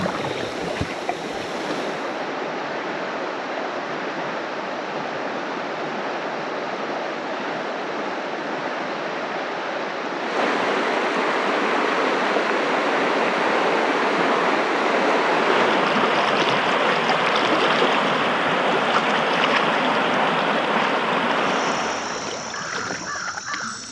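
River water in an Ozarks stream rushing over riffles, a dense, steady hiss of flowing water close by that grows louder partway through, with no talk.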